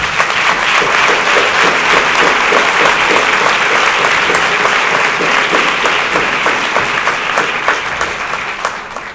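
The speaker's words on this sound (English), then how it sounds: "Let's give them a round of applause." Loud, sustained applause from a large crowd at a C.T. Vivian event in Coatesville, Pennsylvania, dense clapping that stays steady before tapering off slightly at the end.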